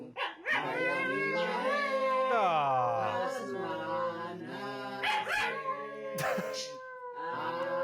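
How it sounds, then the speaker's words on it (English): A dog howls along to sung prayers in a long rising and falling wail with clear harmonic tones. Its voice winds and shifts pitch close by, with a short break, for almost eight seconds. "that dog has a range, better singing voice than I do"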